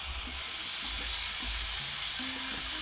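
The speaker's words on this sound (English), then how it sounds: "And then I'm going to add in my tomatoes." Tomatoes drop into a pan of pork wet fry with coriander stems and capsicum, setting off a steady close sizzle and hiss of frying that runs unbroken throughout, with no voices.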